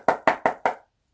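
Knuckles rap four times on a tarot card deck, crisp, evenly spaced close knocks followed by silence.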